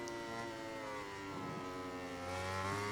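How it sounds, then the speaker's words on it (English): A Honda MotoGP racing motorcycle in the MotoGP 19 video game, its engine droning steadily close behind, with the harmonic tone shifting as it rises and falls in pitch and swelling louder near the end. "You can hear that Honda engine right behind me."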